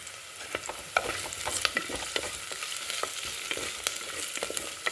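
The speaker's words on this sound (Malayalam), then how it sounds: "കടുക് പൊട്ടിച്ച് എല്ലാം കൂടെ അതിലിട്ടിട്ടുണ്ട്" Close, steady sizzling of vegetables sautéing in oil with popping mustard seeds, scattered sharp pops and crackles, no voices.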